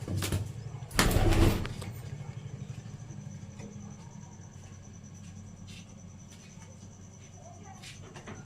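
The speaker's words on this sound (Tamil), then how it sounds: "நம்மள்கிட்ட சாதா புறா இருக்கு" Domestic pigeons cooing softly in a backyard loft, low and faint under a steady background hum, with a loud rustle or flap near the start and occasional light clicks.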